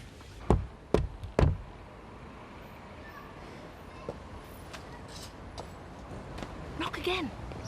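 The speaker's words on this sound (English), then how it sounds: "Knock again." Three loud, sharp knocks on a door come in quick succession near the start, followed by quieter background room sound and faint movement in an indoor scene from a British soap drama.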